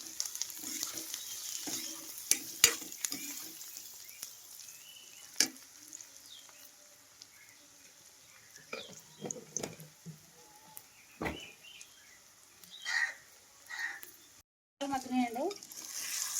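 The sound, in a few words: onions sautéing with salt in a pan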